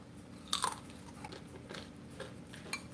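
Someone bites into freshly made chips, a few faint close crunches with a sharper bite near the start and quieter chewing after, no talking.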